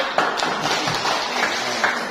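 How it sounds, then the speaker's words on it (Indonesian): A classroom group claps together in a short, moderately faint burst of hand claps with scattered taps, no voices over it. "Oke, tepuk tangan dulu."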